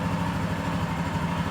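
Royal Enfield Himalayan motorcycle engine idling steadily after start-up, a close, even low thrum with a regular pulse and no voices over it.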